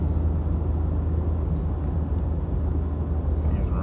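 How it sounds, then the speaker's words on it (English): A truck drives along a rural road, producing a steady low engine drone and tyre rumble that stays constant throughout, with no distinct changes. "the truck drives here."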